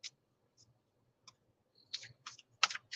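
Tarot cards being shuffled in short bursts of soft riffling and flicking, sparse at first and then denser and louder toward the end, close by with no talking over them.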